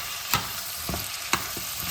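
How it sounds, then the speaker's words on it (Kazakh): Lentils being stirred in a pot, a close, steady sizzling hiss broken by a few soft scraping strokes of a spoon, without any talk. "Осыны тағы да бір араластырып жіберейік."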